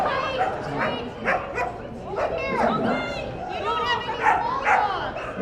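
Big dogs bark and yip repeatedly at a Calgary Stampede dog show in 2014, sharp overlapping barks close by, mixed with a person talking over them.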